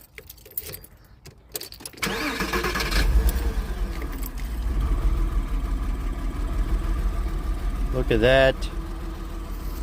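A Porsche engine cranks and catches, then settles into a steady idle with a slight dip, close and loud; keys jangle at the start and a voice speaks briefly over the running engine.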